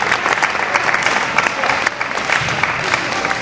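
Audience applause fills a town hall meeting in Peoria, a steady, dense wash of many hands clapping close by for the full stretch without pause.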